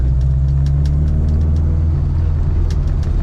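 A classic Mini Cooper with a John Cooper conversion and twin SU carburettors idles close by, a loud, steady low rumble with a fast, even pulse and light ticking above it, and no voices.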